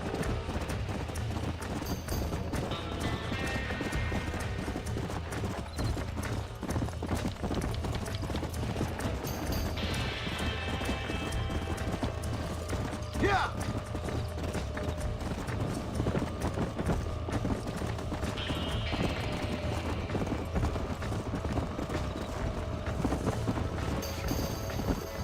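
Horse hooves in the Red Dead Redemption video game: a steady, close clip-clop of a trotting horse that carries on throughout, with brief whinnies and some faint mechanical game sounds.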